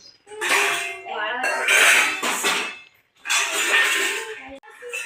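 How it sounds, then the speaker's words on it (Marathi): Washed pots and steel dishes being stacked and put away in a home kitchen, with repeated clinks and metallic clatter in close, continuous bursts separated by brief pauses. "तर काल रात्रीचे भांडे धुतलेले आता लावायचे काम चालू आहे।"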